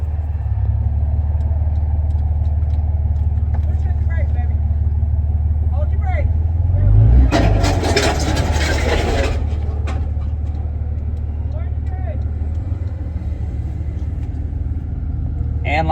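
A single cab truck's engine cranks over and catches, settling into a steady low rumbling idle with a brief louder burst during the start.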